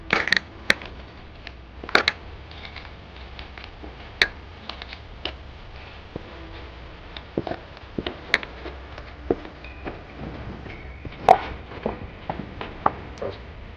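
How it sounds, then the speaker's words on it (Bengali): Lentil paste mixed by hand with onion, turmeric and chili powder, giving soft squelching and scattered sharp clicks and taps at an irregular pace, close and fairly quiet. "ডালের সাথে পেঁয়াজ হলুদ গুঁড়া লঙ্কা গুঁড়া ভালো করে মাখিয়ে নিচ্ছি"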